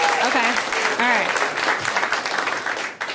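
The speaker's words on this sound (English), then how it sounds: "Clap if you're married in here." A comedy club audience breaks into loud applause and scattered cheers after a stand-up comedian's prompt, the clapping dense at first and then thinning out as a voice talks over it.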